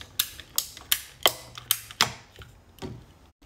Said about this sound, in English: I'm just gonna cut this hose a bit shorter